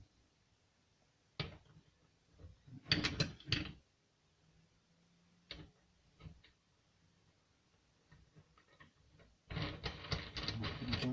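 A disc is fitted and tightened by hand on a Hikoki angle grinder with a keyless clamp, giving bursts of close, quiet ratcheting clicks and mechanical rattles spaced by near-silent pauses, with a longer burst at the end.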